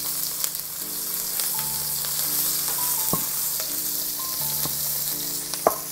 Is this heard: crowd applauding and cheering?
no